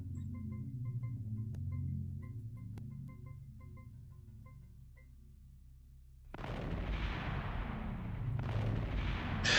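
In the Aliens: A Comic Book Adventure video game, mines go off as loud, rumbling explosions after a low musical drone, with one blast and then a second close behind it near the end.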